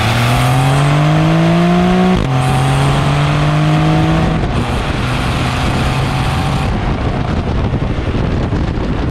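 A Porsche 911 in sport mode accelerates hard, its engine note rising steeply through the gears with quick shift breaks, loud and close over heavy wind and road roar.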